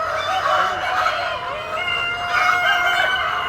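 Chickens in nesting boxes at a poultry farm, clucking and calling in drawn-out, rising and falling tones, loud and close, with several birds overlapping throughout.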